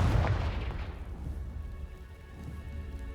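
Confringo blasting spell in the Hogwarts Legacy video game, a sharp booming burst at the start that decays into a rumbling noisy tail and fades over a few seconds.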